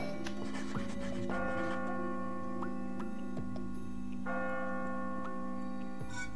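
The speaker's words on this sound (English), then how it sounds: "Oh my god, that bell." A ringing bell in the video game Catherine sounds in sustained, sharply struck tones, two clear strikes whose long metallic tones hang over a steady droning hum, close and loud.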